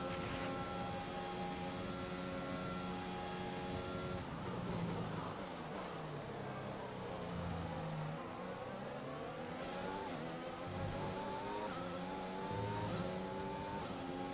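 A Formula 1 car engine from the racing game F1 2021 screams through high revs, with gear shifts and rising and falling pitch as the car chases the midfield, loud and continuous, with no talk.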